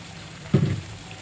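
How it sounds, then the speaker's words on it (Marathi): Green peas tipped into a pot of water at a rolling boil give a short, soft splash and plop lasting about a quarter second, set against a quiet, steady background. "इथे मी आता टोपात पाणी उकळत ठेवलं आहे. ते आता चांगलं उकळलं आहे. त्यात मी आता हे मटार टाकते."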